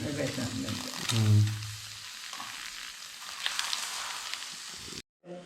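Tilapia wrapped in a leaf and pan-fried the traditional Kerala way gives a steady, close sizzle and crackle lasting about five seconds, with a voice briefly heard near the start before it cuts off.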